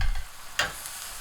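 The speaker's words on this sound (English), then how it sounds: "we're going to go ahead and just toss these a little bit" Chicken thighs tossed and flipped in a hot searing pan, a brief scrape and shuffle followed by a soft, steady sizzle, close and quiet.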